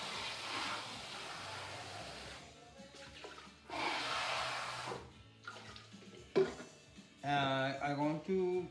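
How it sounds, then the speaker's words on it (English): Water poured into a cooking pot for boiling ribs, a rushing, splashing flow in several bursts with short pauses, close and moderately loud, with clattering handling noises between pours. "I'm going to put maybe like 2 cups of water."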